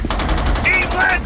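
Suppressing fire during a beach battle: rapid, loud bursts of machine-gun fire rattling continuously for over a second, with brief high whistling tones cutting through.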